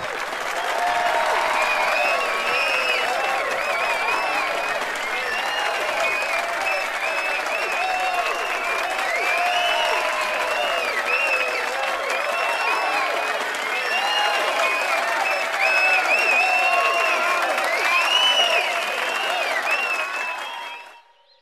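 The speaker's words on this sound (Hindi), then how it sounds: "कृपया तालियों के साथ उनका स्वागत कीजिए।" An audience clapping to welcome a chief guest at a gathering, a sustained, lively round of applause with a few voices mixed in, fading out at the end.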